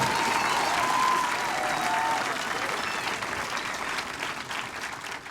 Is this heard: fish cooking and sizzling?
no